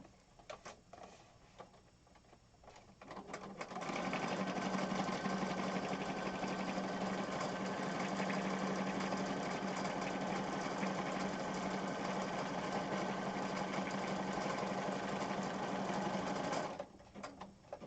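A sewing machine stitches a scrappy junk journal cover in one steady, fast whirring run of about thirteen seconds, close and clear, with softer handling sounds before and after.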